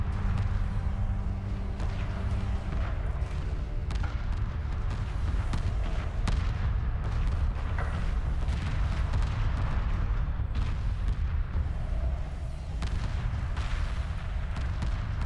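Dense, continuous space-battle weapons fire from missile corvettes in Homeworld Remastered, a steady barrage of launches and impacts layered over rumbling background music.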